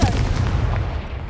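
A Confringo fire spell blast in Hogwarts Legacy, a single loud booming burst with heavy low rumble that holds steady and slowly fades over about a second.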